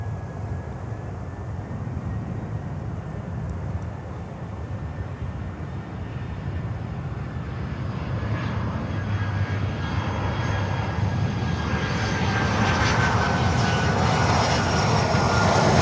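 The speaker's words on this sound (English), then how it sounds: "Next inbound is American Airlines with a 319 coming in from Santiago de Cuba." An American Airlines A319 jet lands at Miami airport, its engine roar rising steadily from a moderate rumble to a louder, broadband rush as the aircraft draws closer, with no voices over it.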